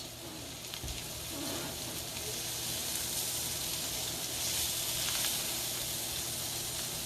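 Butter sizzles in a pan with red cabbage, a soft steady hiss that swells slightly toward the end, quiet and close with no talking.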